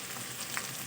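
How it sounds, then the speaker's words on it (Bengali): Potatoes, onion and green chili fry in hot oil, giving a steady, close, faint sizzling hiss with a few soft stirring scrapes, no voices over it. "আলু, পেঁয়াজ, লঙ্কা আবারও তেলের সঙ্গে খুব ভালো করে ভাজা ভাজা করে নেব"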